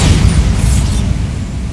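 A Bombarda blasting spell explodes in the video game Hogwarts Legacy: a loud, deep, rumbling boom that fills the whole short moment and fades slightly toward the end.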